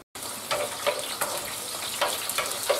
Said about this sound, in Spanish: Empezaremos aplicando un buen chorrito de aceite de oliva extra virgen. A pochar primero los ajos.